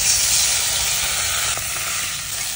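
Water poured into a hot pan of fish curry with red bhetki and bitter gourd bursts into a loud, steady steaming sizzle that dips slightly partway through.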